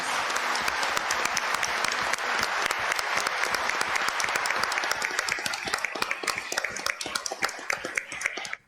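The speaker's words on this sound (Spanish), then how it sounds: "Así que un fuerte aplauso para todas ellas." A large crowd at an event honoring victims of terrorism applauds, dense rapid clapping sustained for several seconds and thinning slightly toward the end.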